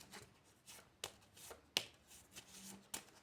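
Oracle cards being shuffled by hand: soft, quiet riffling and flicking with a few sharper taps and snaps spread irregularly across a few seconds, close to the listener and without talk.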